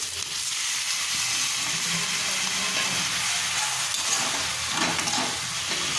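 Turmeric spice paste for rui fish kalia sizzles and crackles steadily in a pan after a splash of water, a loud, even frying hiss.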